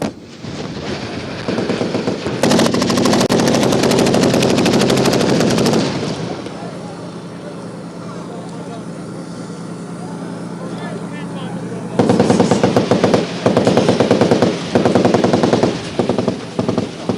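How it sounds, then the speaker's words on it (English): Nigerian Army weapons fire during a firepower demonstration at a shooting range: loud sustained automatic bursts lasting several seconds, a lull of distant rumble, then another heavy stretch of rapid machine-gun fire. "this high-profile demonstration of firepower by the Nigerian Army"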